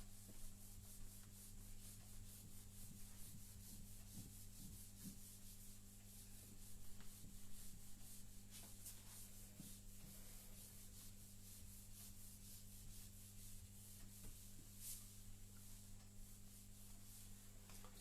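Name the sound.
rubbing, erasing a board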